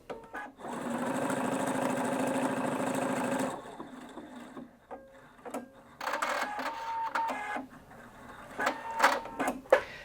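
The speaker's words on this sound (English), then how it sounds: "So I'm just going to select a decorative stitch now to show you that in action" A Husqvarna Viking Brilliance 75Q sewing machine runs steadily for about three seconds while stitching a decorative stitch, then stops, followed by lighter clicks, mechanical whirs and faint handling sounds close by.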